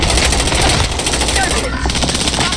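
Video game gunfire in a military shooter, rapid continuous machine-gun bursts, loud and dense throughout, mixed with voices talking over it.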